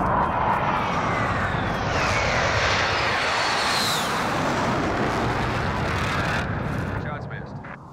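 A military aircraft sweeps overhead for an incoming airstrike in Call of Duty Warzone, a loud roaring flyover that swells and rushes past with a descending whine, then fades near the end.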